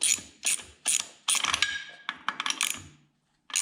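Ratchet wrench clicking in quick bursts while taking up bolts on the first reduction of a John Deere B tractor during reassembly, several separate runs of sharp metallic ratcheting with short pauses, close and alone.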